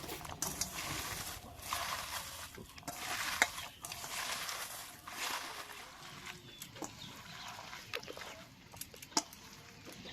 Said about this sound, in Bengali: আর লবণটা থোড়ে দেওয়ার পর হাত দিয়ে এইভাবে একটু চটকে নিতে হবে।